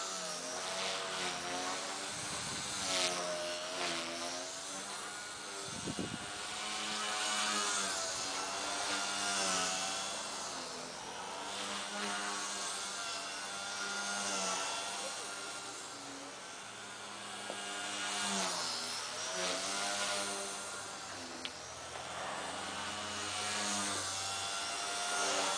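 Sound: MCPX brushless RC helicopter rotor blades bogging down in flight

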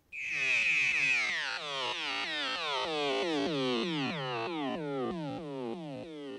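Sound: sine wave tones played by clicking on-screen buttons

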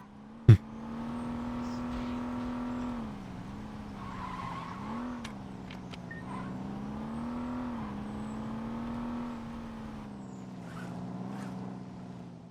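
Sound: car engine driving in Saints Row 2 video game

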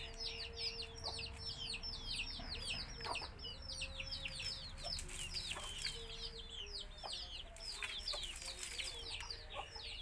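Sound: backyard native Thai chickens clucking

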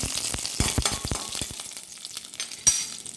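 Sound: curry leaves and fenugreek frying in hot oil

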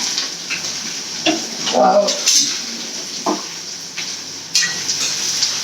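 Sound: curry leaves and onions sautéing in a pan

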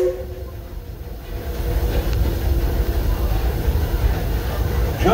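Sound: Disneyland Railroad train running on the rails

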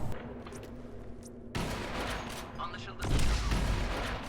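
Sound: gunfire in the video game Crysis Warhead

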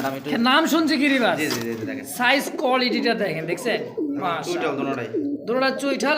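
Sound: Giribaz pigeon cooing

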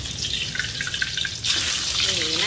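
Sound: mackerel fish frying in oil in a pan

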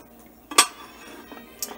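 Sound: glass refrigerator dishes clinking when handled

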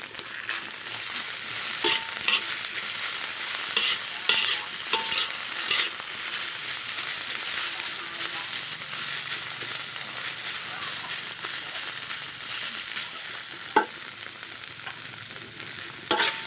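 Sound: stir-frying preserved radish in a pan

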